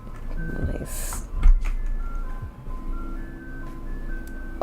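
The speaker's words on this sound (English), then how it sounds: "You hear the ice cream truck, don't you?" An ice cream truck's jingle plays outside a poorly insulated house, a thin looping melody heard at a distance through the walls with low indoor rumble underneath and a brief knock near the start.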